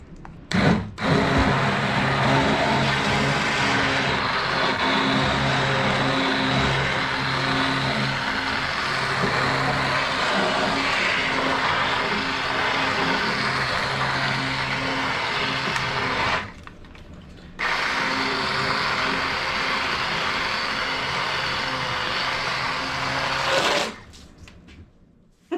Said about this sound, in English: So I'm actually gonna use an immersion blender and just blend it right in here